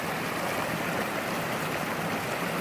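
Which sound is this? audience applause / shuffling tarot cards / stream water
stream water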